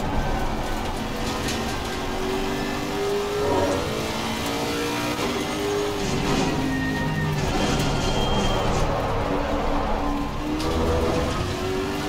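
A loud, growling Lexus RC F GT3 race car's V8 engine in a racing video game revs and roars continuously, pitch rising and falling through gear changes, with no talking.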